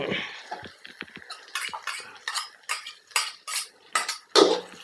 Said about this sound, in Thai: เราจะผัดให้อันนี้หอมก่อนเนาะ